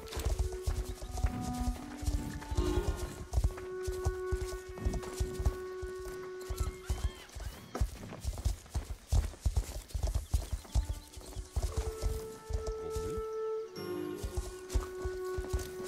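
Horse hooves clip-clop steadily on the ground while horses are herded in the online horse-riding game Star Stable, with neighs and whinnies, tonal game music and effects layered over the rhythmic hoofbeats.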